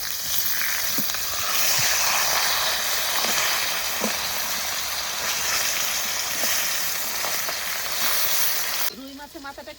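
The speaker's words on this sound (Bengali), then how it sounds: "রুই মাছের মাথাটা একটু ভেঙে ভালো করে ভেজে নিয়েছি" Broken pieces of rohu fish head fry in hot oil with a dense, steady sizzle and occasional spatters, loud and close, fading to a quieter bubbling at the end.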